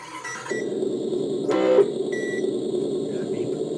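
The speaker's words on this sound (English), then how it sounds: "Hear that beep?" Electronic speed controller on a radio-controlled car (Little Red) beeps once during testing indoors, a short bright tone rising over a steady background hum of the setup.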